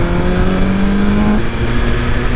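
A 2023 BMW S1000XR motorcycle pulls hard in fourth gear from 4,000 RPM, its engine note loud and close and rising steadily in pitch as the revs climb, with no voices.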